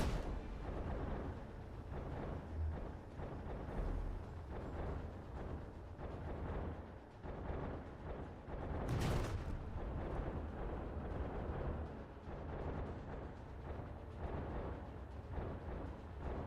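Ship weapons in Space Engineers pound the player's own ship in creative mode, a continuous rumble of heavy impacts and explosive booms with one sharp bright burst midway, steady and moderately loud.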